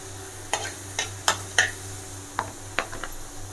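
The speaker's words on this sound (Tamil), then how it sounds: "அதனால் கொஞ்சமாக ஆனியன் போட்டு நல்லா ஃப்ரை பண்ணிக்கோங்க." Onions being stirred in a pan during frying, a spatula scraping in several distinct strokes over a faint sizzle and a low steady hum in the background.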